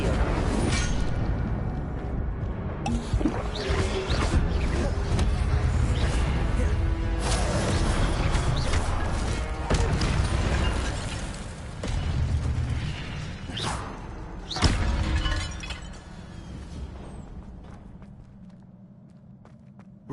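A fire spell from Hogwarts Legacy bursts with whooshing, crackling blasts amid clattering game action and footsteps, loud and busy for most of the stretch before gradually fading.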